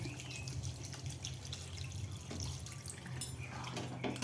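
Water is poured into a pot of mutton curry with potatoes, giving a steady liquid splash over a low kitchen hum that lasts the whole stretch with no talk.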